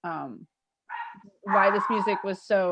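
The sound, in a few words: dog barking at doorbell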